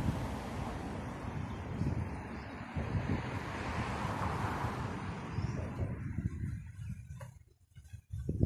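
Fast-running floodwater rushes past Paringa Bridge in a steady, broad roar, with gusty wind noise over the microphone that drops away near the end.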